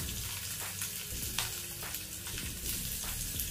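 Five or six dried red chillies fry in a pan over a low flame, a continuous close sizzle with soft crackling and light stirring taps throughout, no talking.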